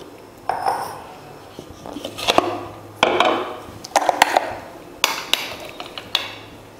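Ground chutney is scraped from a grinder jar into a bowl, making a series of sharp metallic knocks and clinks with scraping in between, loud and close, irregularly spaced.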